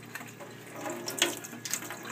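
Fish and coral food being rinsed by hand in a bowl of water, quiet close sloshes and swirling splashes with a few brighter drips, faint and intermittent.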